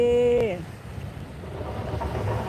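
Wind and surf on the Atlantic Ocean shore in Iceland give a steady, rough rush of air and breaking waves, opening with a brief tonal sound that slides down in pitch.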